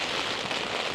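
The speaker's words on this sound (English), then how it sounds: "Wow, that rain's coming down now." Steady rain drumming on a tent pitched on a windy Lake District mountainside, a dense, even hiss of drops with no pauses, fairly quiet and close.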